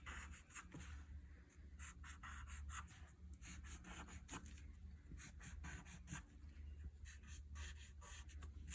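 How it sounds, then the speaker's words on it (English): Pen or marker scratching across paper while drawing a star, steady rubbing strokes close by, with no talking. "So I am just drawing my star on."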